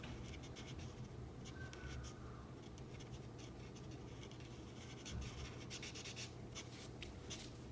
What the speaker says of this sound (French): On reprend le gris 5 pour colorier ici le visage.